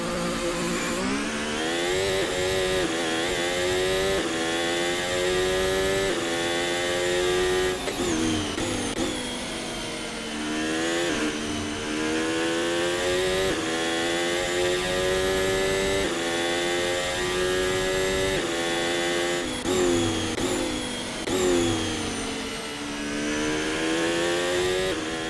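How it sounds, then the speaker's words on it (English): Ferrari SF23 Formula 1 car from an F1 2023 game mod, its engine screaming loud and alone through repeated rising upshifts and revs, with a few dips between gears. "First things first, a sound test."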